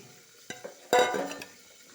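Ground coconut paste is poured into a simmering Kerala-style tuna curry. A couple of soft clinks lead into a brief wet splash and sizzle near the pan, which fades quickly into near silence.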